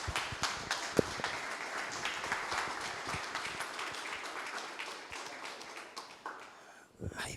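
Standing applause welcoming the co-founder and CEO of Devlint at a business event, scattered moderate clapping from a modest crowd with a few sharper claps, fading slightly near the end.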